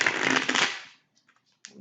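Brisk papery riffling of gilded tarot cards for about a second, then near silence with a couple of faint taps and a soft shuffle at the end.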